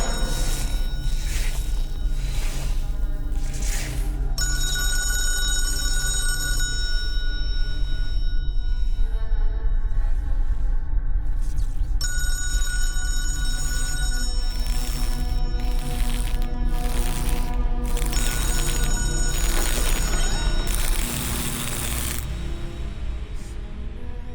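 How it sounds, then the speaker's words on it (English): A telephone bell rings inside the St. James End Club, sounding in several repeated bursts of tonal ringing over a steady, busy indoor background with no talk. "Somebody answer the phone."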